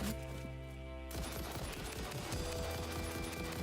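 Rapid automatic gunfire in the Satisfactory video game, a dense burst of rattling shots that starts abruptly partway through and continues loud to the end.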